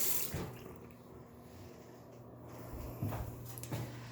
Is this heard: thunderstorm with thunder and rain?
no